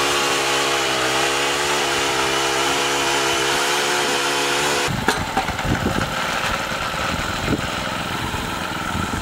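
A four-stroke gas ice auger engine running. It hums steadily at first, then shifts to a rougher, choppier drone with uneven pulses, close and loud.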